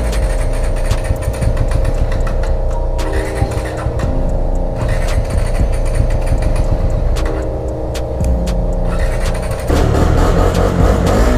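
A motorcycle engine runs steadily in cold mountain weather at Kaza in Spiti. The sound is a loud, continuous low rumble that stays even throughout, with no voices.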